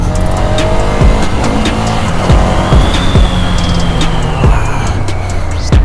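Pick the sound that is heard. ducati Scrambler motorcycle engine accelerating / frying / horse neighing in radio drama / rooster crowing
ducati Scrambler motorcycle engine accelerating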